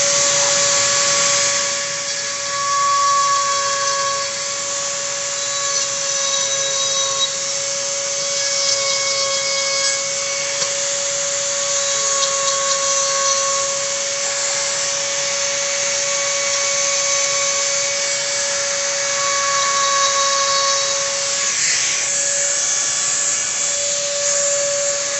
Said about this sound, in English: now I'm going to get my Dremel out